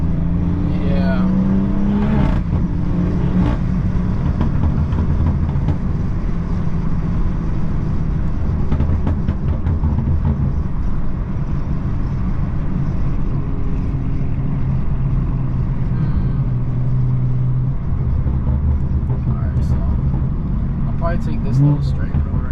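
A straight-piped BMW 340i exhaust drones loudly and steadily from inside the moving car, with occasional swells as the engine pulls, continuous throughout with some talking over it.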